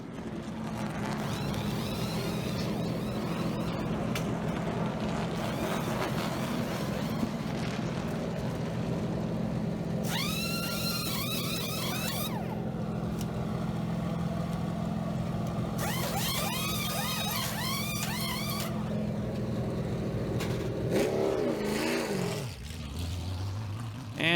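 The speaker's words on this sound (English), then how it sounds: "listen to the 39 guys go to work on this next pit stop" NASCAR race cars at Watkins Glen during a pit stop, a constant engine drone with repeated bursts of high whining sweeps, likely air wrenches, and a car pulling away near the end.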